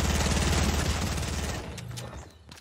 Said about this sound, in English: the minute I saw him shoot me with a shotgun